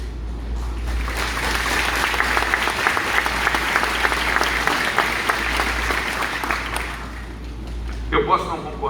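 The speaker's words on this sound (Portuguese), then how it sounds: "vamos aplaudir isso." A church congregation bursts into sustained, even applause that fills the room for about seven seconds before fading, with a voice briefly heard as it ends.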